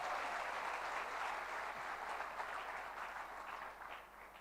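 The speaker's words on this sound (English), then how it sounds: "A round of applause for that." Audience at a Rotary district conference opening ceremony clapping together, a sustained wash of applause from a full hall that holds steady and slowly tapers, fairly faint and distant.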